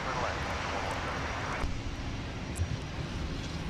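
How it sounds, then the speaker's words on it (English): Airbus A330 arriving from Copenhagen at Minneapolis–Saint Paul airport, a steady broadband jet roar that holds loud throughout, with a brief swell near the middle and no voices. "Copenhagen is about to arrive with the 330."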